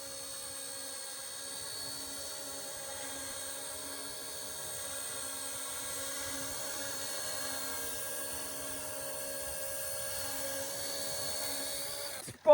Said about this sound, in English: It's a great little helicopter.